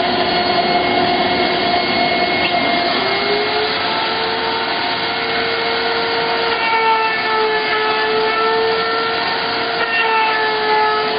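Shop vacuum sucking up router chips while holes are routed in a wooden grid board, a loud continuous roar with steady whining tones that shift in pitch, near and unbroken throughout.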